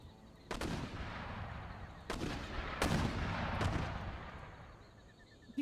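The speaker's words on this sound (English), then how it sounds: "My foot artillery can continue to try and suppress the enemy batteries." Foot artillery in Empire: Total War, several cannon shots booming out one after another at irregular intervals, each followed by a rumbling echo under faint battlefield ambience.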